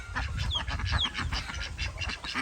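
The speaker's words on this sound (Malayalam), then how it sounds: "നമ്മുടെ താറാവുകളുണ്ട്." A batch of farm-raised ducks quacks in a pen, with a dense run of overlapping nasal calls close by, loud and continuous and with no talk.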